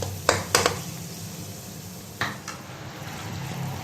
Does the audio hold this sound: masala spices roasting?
yes